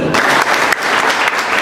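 A church congregation bursts into loud, dense applause during a worship gathering, sustained many-handed clapping close by with a few stronger accents and no gaps.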